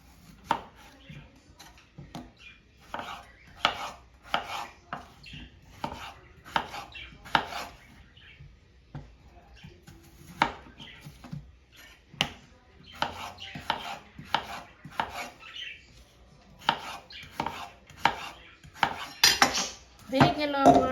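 A knife chops ridge gourd and potatoes in a home kitchen, giving a long run of close, crisp cutting knocks in uneven rhythm, with a denser clatter of cutting toward the end.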